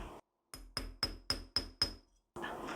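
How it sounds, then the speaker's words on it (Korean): Six sharp metallic hammer taps fall in an even rhythm as an initial-letter stamp is struck into the inside of a silver ring, each tap ringing briefly. The strikes are close and clear, with brief silence before and a noisy rustle after. "이 이니셜 도장 가지고 안쪽에다 글씨를 새겨 주실 건데요"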